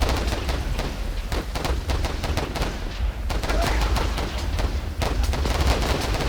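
Dense, continuous rapid gunfire and machine-gun bursts from a First World War trench-assault video game, loud and sustained throughout with crackling volleys and rumbling low booms, no talking.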